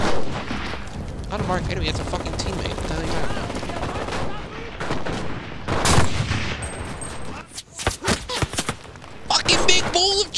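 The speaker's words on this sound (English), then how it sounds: "There's so much fucking gunfire." Gunfire fills a session of the World War II video game Enlisted, with bursts of shots and booms at varying distances mixed with loud excited players talking over it.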